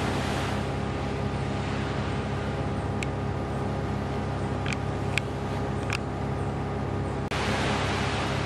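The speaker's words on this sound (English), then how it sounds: "you can hear the waves just breaking on the shore" Ocean waves breaking on a St Lucia shore at sunset, a steady broad wash of surf with wind rumbling against the microphone, a few faint sharp ticks and no talking.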